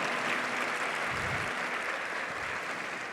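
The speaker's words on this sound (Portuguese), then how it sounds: "Pode aplaudir?" Church congregation applauding during a sermon, a continuous, even roar of clapping from a large crowd, slightly distant and steady throughout with no voices over it.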